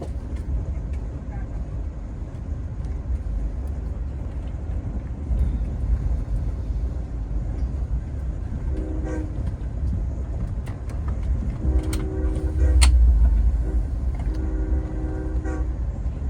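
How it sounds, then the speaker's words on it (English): An Amtrak Regional train, number 85 running from Boston toward Richmond, Virginia, rumbles past near the Providence maintenance facility. Steady low roar throughout, with wheel and rail squeals and a louder swell near the end. "And that was Amtrak Regional Train number 85 en route from Boston to Main Street Station in Richmond, Virginia."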